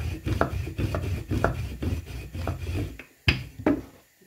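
Lachha paratha dough rolled and turned on a kitchen surface, giving soft rhythmic thumps and rubbing knocks about every half second, close and moderately loud, ending in a couple of sharper taps.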